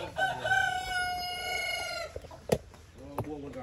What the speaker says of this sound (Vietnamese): Buông con gà, lỏng gà.